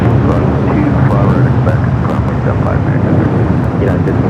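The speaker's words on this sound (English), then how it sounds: "this one crossing over, coming in from Phoenix in an A321 Neo" Airbus A321neo airliner on approach to Los Angeles International Airport, arriving from Phoenix, heard as a steady loud broadband jet roar with rumble, wind buffeting on the microphone throughout.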